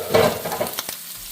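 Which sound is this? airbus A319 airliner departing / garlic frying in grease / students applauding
garlic frying in grease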